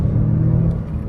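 A 2024 Mazda CX-5 Turbo engine pulls hard through a turn, giving a steady, loud low rumble from inside the cabin that eases slightly near the end, with no one speaking.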